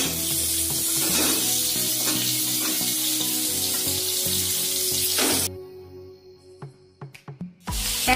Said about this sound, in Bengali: এক মিনিটের মতো এটা ফ্রাই হচ্ছে